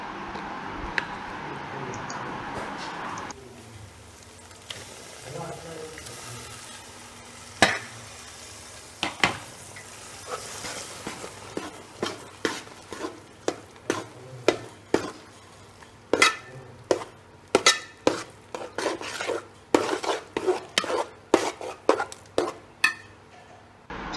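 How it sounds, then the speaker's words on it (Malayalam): Ripe jackfruit being stirred in a pan for halwa, a spoon scraping and clacking against the metal in a steady run of repeated strokes that grow quicker and louder, with a soft sizzle underneath. "ചക്കപ്പഴം ഇട്ട് ഇളക്കി ചക്കപ്പഴം മുഴുവൻ ഇട്ട്"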